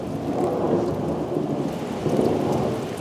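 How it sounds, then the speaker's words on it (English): Steady heavy rain hisses on surfaces around a cabin while low thunder rumbles on and off underneath, swelling twice; no voices. "Still hear the thunder."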